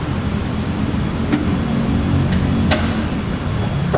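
A 2022 Chevrolet Tracker LT Redline on the move, heard from inside as a steady low road and engine rumble with broadband rushing noise and a few faint clicks.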